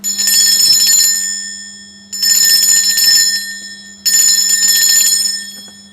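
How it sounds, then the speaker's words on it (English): A bell rung to cleanse a space strikes three times at even intervals about two seconds apart, each ring loud and bright, then shimmering and fading before the next. "I'm going to ring a bell now, actually."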